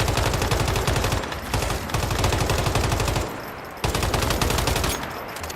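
Rapid automatic gunfire in the video game Once Human, sustained bursts of evenly spaced shots that fire loud and close, with a few short pauses between strings.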